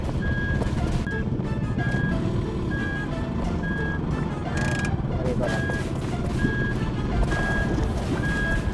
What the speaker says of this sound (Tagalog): Atras ko pa yung sasakyan.